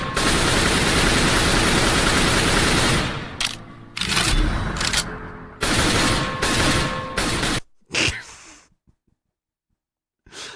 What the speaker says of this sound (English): Original AK-47 sound.